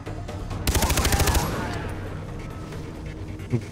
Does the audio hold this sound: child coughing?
no